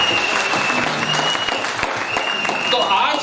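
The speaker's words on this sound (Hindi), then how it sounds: "जोरदार तालियां आप सबके एक बार फिर से हो जाए।" Loud, dense applause from an audience at a recognition program in Ramnagar, a steady wash of clapping filling the whole stretch with a faint tonal note running through it.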